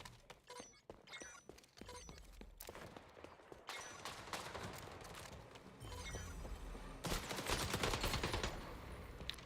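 RPK light machine gun in XDefiant fires sharp bursts, first in short separate cracks and then in longer sustained automatic strings, with other gunfire and impacts around it in a busy multiplayer match.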